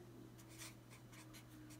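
Pen or pencil strokes on paper as a math problem is written out, a steady series of short scratchy marks over faint room hum, fairly quiet and close with no talking.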